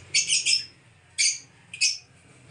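Pet budgerigars, parblue, opaline and split ino, chirp in three bright bursts. The first is a rapid cluster of tweets, then two shorter calls follow after pauses, close and clear over a low background hum.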